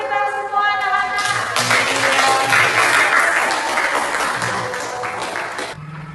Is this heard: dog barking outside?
no